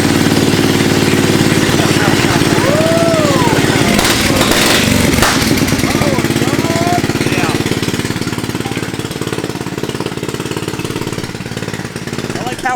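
A cheap flea-market small engine mounted on a mini bike runs loud and close with a rough, rattling drone that holds steady before easing slightly. Voices talk over it.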